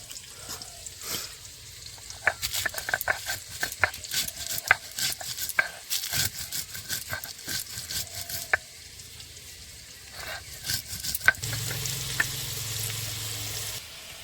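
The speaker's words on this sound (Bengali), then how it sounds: "আলুগুলো আমার ভাজা হয়ে গেছে, এবার আমি তুলে নিচ্ছি" Potatoes fry and sizzle in hot oil as they are stirred for a crab and pui metuli chorchori, with scraping spoon strokes over a steady hiss that swells louder toward the end.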